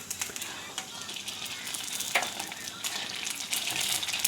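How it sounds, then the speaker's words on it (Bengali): Fuchka fry in a pan with a continuous crackling sizzle, with occasional brighter spits and stirring scrapes throughout. "এক হাত দিয়ে ফুচকাগুলি ভাজছি"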